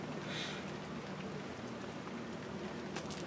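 Rain falls steadily outside by a back step, a constant soft hiss of drops hitting the surface that stays even and close with no voices.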